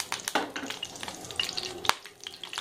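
Whole cinnamon stick, cardamom and cloves, with bay leaf, fry in a pan of hot oil for a South Indian mutton kofta curry, giving a light, crackly sizzle with soft stirring clicks and one sharp pop near the end.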